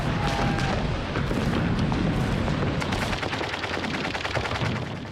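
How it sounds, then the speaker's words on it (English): German machine guns fire in World War II combat, sustained rapid bursts of cracking shots with heavy booming blasts, loud and dense at first and then thinning into sharper separate reports toward the end. "They were mown down by German machine guns."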